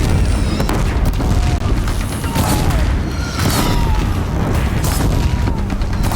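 Deathbringers firing on a bridge in a video game's final battle, a dense, continuous roar of booming explosions and impacts with faint whistling streaks, loud and sustained throughout.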